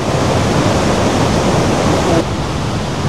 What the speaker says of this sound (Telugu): ఆ వాటర్ ఫాల్స్, ఆ సౌండ్,